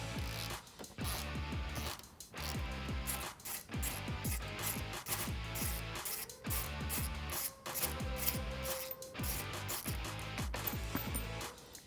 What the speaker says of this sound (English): So I am using a 10mm socket to remove that bolt.